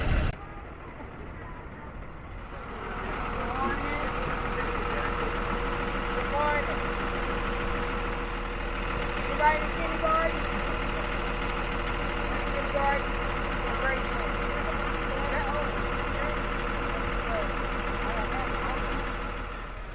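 A school bus idles as it pulls up near a kindergarten, a steady low engine rumble running continuously close by, with a brief hiss partway through and people talking over it.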